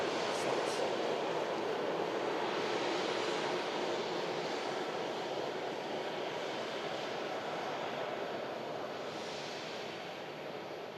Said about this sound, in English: So you should start to slowly clean the aircraft up now, as it's on the taxi to gate.